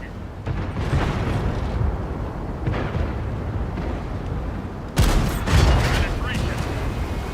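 A tank's main gun fires in World of Tanks, a sharp booming blast near the five-second mark that rings out over rumbling engine noise and battle sounds, preceded by a steady low rumble.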